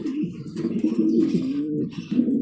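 Indian colour pigeons at a farm coo in soft, throaty, rolling calls that overlap continuously, close by and fairly loud, with no talking.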